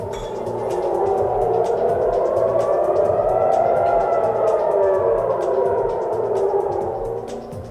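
Air raid sirens wail over Tel Aviv during an Iranian missile attack, a loud, steady rising-and-falling civil defense tone that sustains throughout with a low rumble beneath and no talking.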